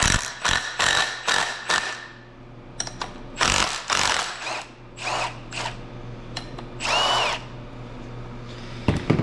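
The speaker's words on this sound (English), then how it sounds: "I'm using a chrome socket on an impact" An impact wrench fitted with a chrome socket works on a 7.3 Powerstroke short block, firing in a series of short, loud rattling bursts separated by pauses and light clanks.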